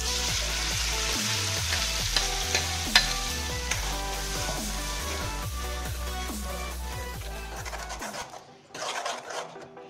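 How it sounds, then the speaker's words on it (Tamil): Ground masala paste sizzles steadily in melted butter in a pan on a stove as paneer butter masala is cooked, with stirring scrapes, then the hiss thins out near the end. "இப்போ அரைச்சி வச்சிருக்க பேஸ்ட் எடுத்து அதில் ஊற்றிக்கலாம்."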